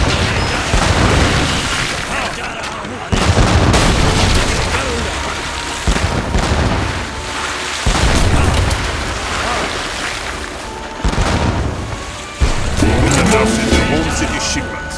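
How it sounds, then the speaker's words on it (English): Ships fire artillery in the Age of Empires 3 video game, and heavy booms repeat over a dense battle and sea soundscape with waves. Music plays throughout, and a narrator speaks at times. "Blast them! Artillery!"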